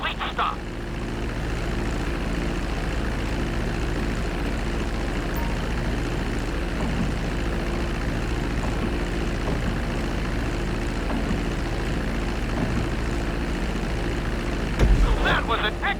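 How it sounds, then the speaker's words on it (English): Airplane taxiing on a runway in the video game GTA 5, a steady droning propeller-engine rumble that holds at an even level throughout, with a brief louder mechanical burst near the end. "Now let's get the plane off the runway."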